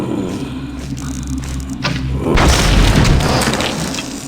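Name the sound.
crate being blown up in video game Thief Gold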